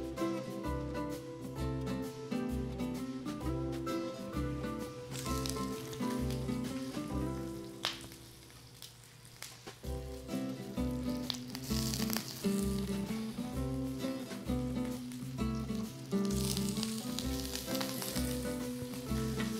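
Shrimp sizzle on a hot grill, a bright, steady crackle that runs the whole time beneath rhythmic background music with a pulsing bass beat.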